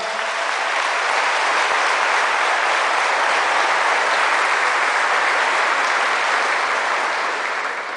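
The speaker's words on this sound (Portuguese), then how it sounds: "Uma salva de palmas a Nossa Senhora." A large congregation at a Catholic gathering honoring Our Lady of Guadalupe claps in unison, a loud, dense, unbroken wash of applause that fills a big hall from start to finish.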